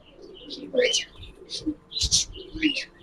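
Pigeons coo in short, soft bursts from close by, mixed with chirpy calls among Giribaz pigeons in a cage, with a few faint voices talking underneath.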